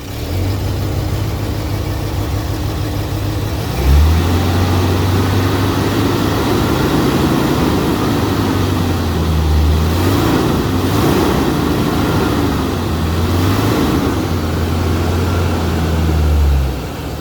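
Running engine of a 1969 Rolls Royce Silver Shadow with about 113,000 miles, a steady idle whose low drone wavers and stumbles repeatedly as it struggles to keep running, close by with no talk.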